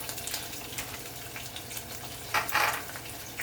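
Spaghetti noodles frying in a pan give a steady soft sizzle, with a brief louder crackle and scrape of stirring near the end.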